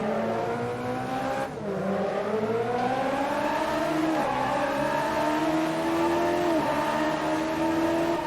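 Radical SR3 race cars at Imola in a six-lap racing video game, engines droning loudly and continuously with several rising and falling pitch sweeps as gears shift, a pack of cars heard together.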